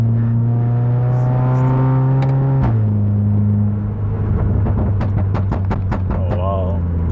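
Audi S3 tuned past 500 hp revving hard, the engine note climbing then dropping sharply, followed by a rapid string of crackling exhaust pops, with voices reacting in the car.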